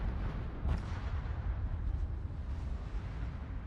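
Torpedo hits exploding against a ship in World of Warships: a sustained, loud, rumbling roar of blasts with a sharp crack early on, and no talk.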